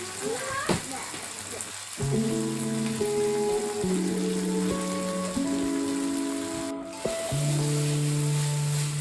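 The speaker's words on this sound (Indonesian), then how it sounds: "Diaduk rata sampai tauconya wangi" A spatula stirs paste in a frying pan, soft scraping over a low sizzle, with a humming tonal background.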